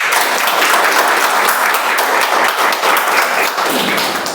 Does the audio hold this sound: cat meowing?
no